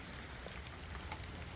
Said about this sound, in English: I'm a little bit hit by the rain today